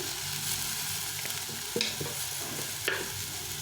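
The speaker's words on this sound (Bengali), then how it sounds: "সজনাটাও একটু ভেজে নেবো" Moringa drumsticks sizzle steadily while frying in a pan, with a few clinks and scrapes from stirring breaking through the constant crackle.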